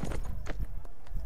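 Horse hooves in the Mount & Blade Warband video game, a quick run of clip-clop footfalls at a steady walking rhythm, close and fairly clear, with no talk over them.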